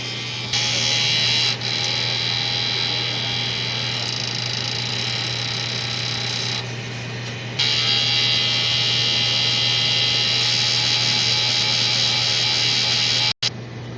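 A DTF printer running its head cleaning cycle, a steady electric whirring hum with a constant low tone, the pitch shifting slightly as the mechanism changes stages, ending with a brief click.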